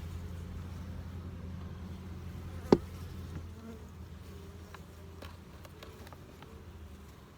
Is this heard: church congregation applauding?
no